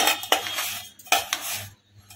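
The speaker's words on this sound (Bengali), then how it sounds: "হাতাই করে আমি ভালো করে নেড়ে চেড়ে নেব" A ladle stirs pulao with fried paneer pieces in a metal pot, making a few close scraping clinks and rattling knocks in two short bursts, no one speaking.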